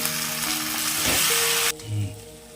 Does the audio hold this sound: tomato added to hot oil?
yes